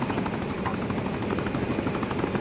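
Helicopter flying in a flight simulator video game, a steady close rotor chop and whine that holds constant at a moderate level throughout, with no voices.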